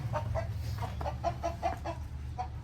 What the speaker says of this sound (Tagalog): Where are the chickens?